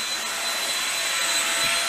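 A Shark Rocket HV302 corded bagless vacuum cleaner runs continuously while cleaning corners, a close, loud, steady whining roar with no break.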